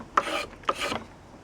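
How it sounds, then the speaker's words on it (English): Two rasping spokeshave strokes shaving a wooden mallet shaft, each starting with a sharp bite and trailing off into a smooth scrape, close by with no talking. "I'm just cleaning up the hammer shaft itself now with a spoke shave"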